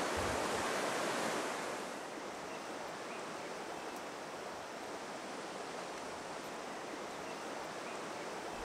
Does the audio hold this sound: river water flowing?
yes